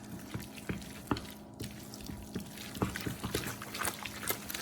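Grated Parmesan and mozzarella being mixed into a chicken tetrazzini, a spoon giving soft, quiet wet scrapes and taps in an irregular rhythm, close by, with no talking.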